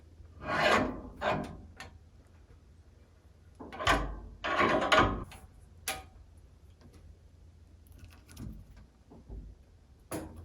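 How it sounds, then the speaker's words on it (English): Bench vise tightening a metal insert onto a snow shovel shaft, heard as a few separate rasping, creaking bursts of metal-on-metal friction that come in short clusters with quiet gaps between them, close up and with nobody talking. "I'll use the vise to tighten the metal insert to a point where it locks the shaft inside"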